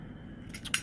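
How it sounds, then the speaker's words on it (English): A pair of scissors snips through material, used as a tool for taking apart an old book, giving a couple of short crisp cuts with a sharper final snip, close and fairly quiet against a low background hum. "So would a pair of scissors."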